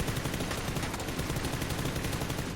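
Rapid gunfire in PUBG during a competitive match, dense overlapping bursts of automatic shots hammering without pause for a few seconds, loud and close.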